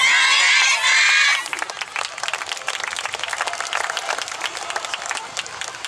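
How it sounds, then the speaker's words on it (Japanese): Audience applause and rhythmic hand-clapping at a yosakoi dance performance, starting with a loud bright burst of music or cheering for a second before settling into sustained dense clapping from a large crowd. "皆さんからの大きなお手拍子と拍手をいただきたいと思います。"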